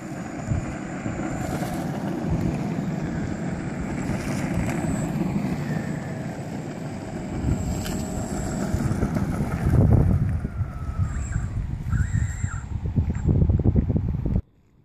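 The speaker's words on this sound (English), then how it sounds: "We're going to hit full brake over here from full speed to full stop" A Yuneec E-Go electric longboard rolls at speed with wheel rumble and wind rush, then brakes to a stop as the rolling noise roughens and cuts off abruptly at the end.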